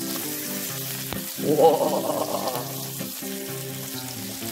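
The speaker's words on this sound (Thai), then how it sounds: "มาแล้วครับเต๊กหมูจิ้นหนากระทะร้อน" A thick pork steak hits a hot pan and sizzles in a loud hissing burst that peaks and then settles, with steady background music throughout and a brief exclamation from a voice.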